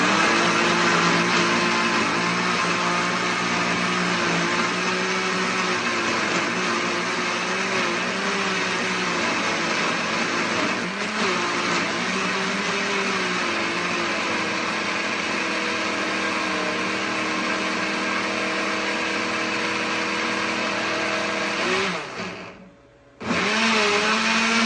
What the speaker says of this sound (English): And we're just going to blend this up.